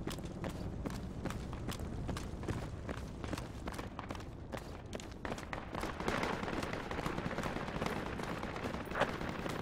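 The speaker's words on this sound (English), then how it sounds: "That's a lot of gunfire to the north." Gunfire in the tactical shooter Project Reality, rapid irregular cracks and bursts running steadily for several seconds at a distance, with a slightly louder stretch near the end.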